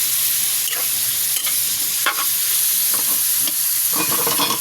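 Pork sautés in a pan with a loud, steady sizzle, broken by the scrape and clack of a spatula stirring the meat every so often.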